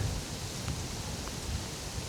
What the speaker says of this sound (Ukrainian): Йолки-палки, дощ пішов, друзі.